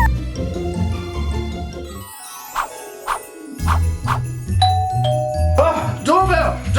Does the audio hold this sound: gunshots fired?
no